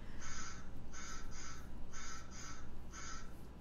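A crow caws five or six times in short spaced bursts, clear and moderately close, over a steady low background hum, serving as the bird sound effect in an Articulate Storyline memory game.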